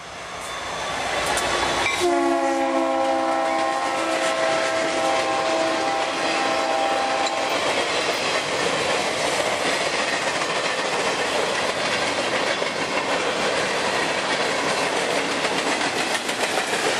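A Norfolk Southern SD60M locomotive passes on a southbound train, sounding a loud multi-tone horn, then a steady roar of wheels and clattering railcars rolling close by without letup.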